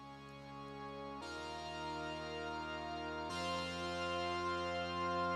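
Korg Trident Mark III synthesizer plugin playing a sustained chord pad, with layered harmonic tones that shift to new chords twice and swell slightly louder toward the end, alone with no voices.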